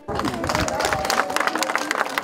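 A huge crowd gathered at a border crossing to greet the president, a loud continuous murmur of many voices with scattered clapping and cheering.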